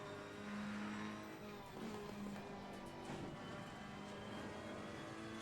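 Race car engine in Assetto Corsa Competizione, a steady close drone with shifting pitch as the car accelerates, faint tyre noise underneath, running continuously without talk.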